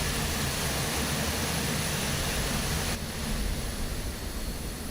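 Jet engines of an Airbus A400M in Microsoft Flight Simulator 2024 roar steadily at takeoff power, a loud broadband rumble and hiss that drops slightly in brightness partway through.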